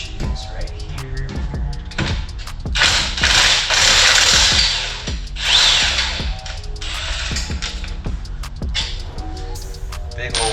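An impact wrench working the brake caliper bolts on a Jeep Grand Cherokee fires in loud, close, repeated bursts of rattling hammering, broken up by metallic clanks and thuds between runs.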